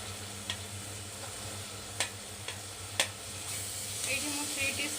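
Ginger garlic paste frying in a pan for Dahi Bara-Alu Dum, a soft steady sizzle broken by a few sharp clinks of stirring, growing louder toward the end.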